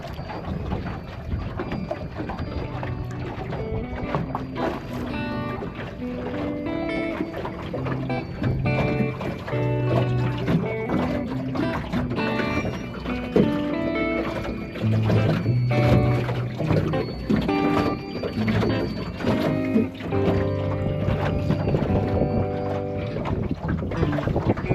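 A small boat moving across a lake during a pike trolling outing, with a steady engine drone, water rush and wind buffeting the microphone throughout.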